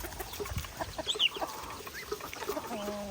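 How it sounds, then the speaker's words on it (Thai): Farmyard chickens and young jungle fowl kept alongside ducks in Laos cluck in scattered short calls, with rustling and small movements close by and no talk. "เป็ดกับไก่"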